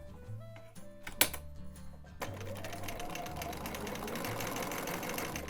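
A sewing machine stitches knit fabric with a wide zigzag stitch, first with brief clicks and adjustments, then a sharp knock before a steady, fast mechanical whir starts up and continues, close by.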